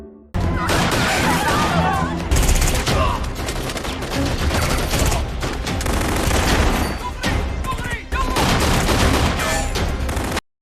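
Heavy gunfire exchange in a naval warship TV drama, dense continuous bursts of automatic weapons fire with crashes and booms, loud and sustained throughout with no pauses.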